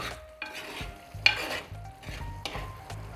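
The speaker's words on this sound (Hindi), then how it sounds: "अब हम इसमें बॉइल्ड एग्स डाल देंगे। हमें इस साबुत लहसुन को बचाते हुए चलाना है।" A spoon stirs boiled eggs through cooked onions and whole garlic for a Bihari-style egg curry, scraping the pan in rhythmic strokes over a soft sizzle.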